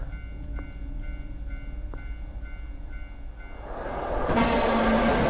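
A ghostly skull train in the horror game Tsugunohi rushes in close and loud, its roar swelling to a dense, full-band wash after a few seconds of quieter ambience with repeated crossing-like tones.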